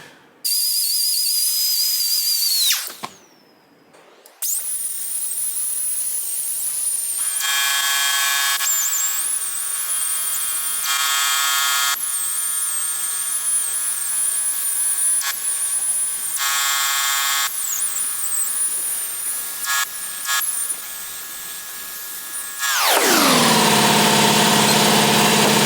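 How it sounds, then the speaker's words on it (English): A power tool spins a Scotch-Brite pad against steel parts of a 1978 Kawasaki KZ1000 Z1R under restoration, a loud whining whir that cuts out briefly, restarts and runs with shifting pitch before rising to a harsher burst at the end. "I'll just see if I can shine it up a bit with the Scotch-Brite."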